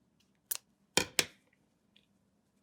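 Scissors snip through a pipe cleaner at a craft table, giving three crisp close cuts, one on its own and then a quick pair, over a quiet background.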